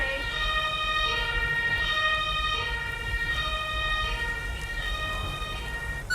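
Wailing ambulance siren from an emergency-services video game, a steady, continuous tone that rises and falls in slow cycles and stays loud and close throughout.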